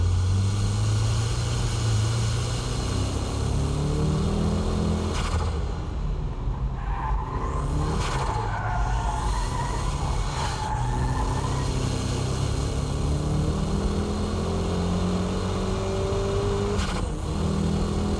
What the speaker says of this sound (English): I'll demonstrate the braking drift with this K-Office S14